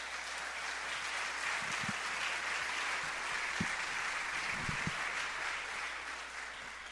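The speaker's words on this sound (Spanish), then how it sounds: "Entonces un aplauso y nos vamos a poner aquí" Steady crowd applause, a dense wash of clapping that holds evenly throughout, with a few louder individual claps and faint voices underneath.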